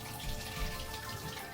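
Tap water runs in a continuous steady stream, splashing softly into a container with a faint hum underneath.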